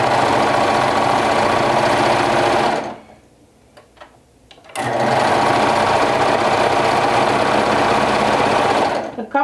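A cover stitch sewing machine runs fast through fabric in two loud, steady bursts of buzzing, rattling stitching, split by a short pause with faint clicks before the motor starts again.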